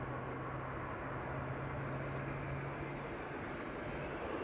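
An airliner arriving at Amsterdam Schiphol Airport produces a continuous broad jet roar with a steady low hum, heard outdoors at moderate distance with no voices.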